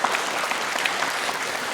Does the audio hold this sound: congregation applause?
yes